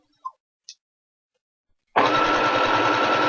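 A sewing machine runs steadily in reverse, stitching over a hair weft; after two faint ticks and near silence it starts abruptly and keeps up a continuous close whirring hum.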